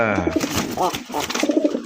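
A male Deshi Bombay pigeon coos repeatedly and close, a run of throaty rolling calls with a person talking over them.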